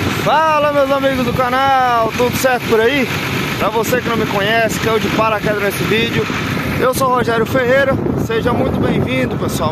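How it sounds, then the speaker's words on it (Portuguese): Wind buffets the microphone in an open farm field, a steady rushing roar that runs under someone talking throughout. "desculpa o vento, nós estamos aqui no meio da roça."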